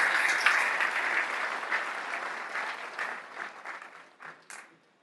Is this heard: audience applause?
yes